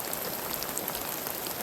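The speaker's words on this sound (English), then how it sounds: "The rain became my biggest challenge, turning into a prolonged, heavy downpour" Heavy, prolonged rain pours down steadily at a Florida campsite, a dense, even hiss of countless drops striking surfaces, close and continuous with no voices.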